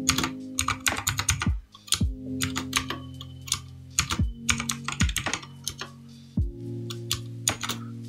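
Someone types on a computer keyboard in quick bursts of clicking keys, close up, with short pauses between runs and a low steady hum underneath.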